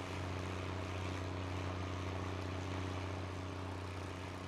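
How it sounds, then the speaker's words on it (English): A tractor engine in the farming game Greenlands, the 85 horsepower model, hauling silage, gives a steady, even drone that hums without a break from start to finish. "I'm hoping once full of silage, this isn't going to be too heavy for this tractor."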